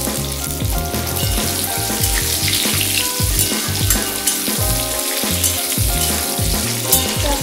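Onions frying in a pan give a steady, fairly loud sizzle with scattered crackles and some low clattering, running continuously with no talk.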